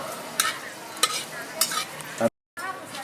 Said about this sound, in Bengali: বন্ধুরা দিয়ে দিচ্ছি শুকনো লঙ্কা